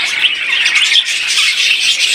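Budgerigars and doves in a bird shop make a dense, loud, unbroken chatter of shrill chirps and squawks, many birds calling at once with no speech.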